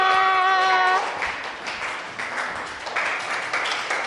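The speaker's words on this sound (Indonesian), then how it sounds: "Tepuk tangan untuk kelompok 2." A classroom of students claps for group 2 after a sustained tone fades, a dense, steady patter of many hands, fairly loud and close, with no talk over it.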